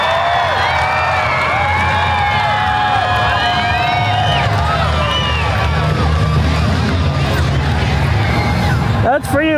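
A jubilant crowd at an all-star championship finals event cheers loudly and without a break, with whistles and shouts rising above the roar and an announcer talking over it.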